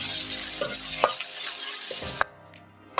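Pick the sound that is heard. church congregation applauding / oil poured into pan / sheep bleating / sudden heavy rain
oil poured into pan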